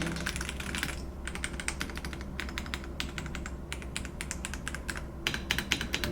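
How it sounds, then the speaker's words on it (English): Fingers type on a full-size mechanical keyboard in close, crisp bursts of clacking keystrokes, with short pauses between runs and no voices. "That spacebar is a little thunky, but everything else sounds quite good."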